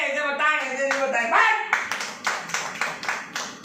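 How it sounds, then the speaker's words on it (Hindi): A crowd at a church sermon claps in a steady rhythm of about seven sharp, evenly spaced beats after a voice speaks over the start. "ताली बजाओ"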